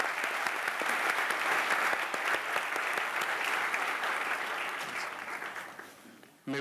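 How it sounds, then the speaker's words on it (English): An audience at a solar energy forum's opening session applauds the panel with dense, sustained clapping that gradually fades before cutting off abruptly. "I'd like to ask for a round of applause for the panel"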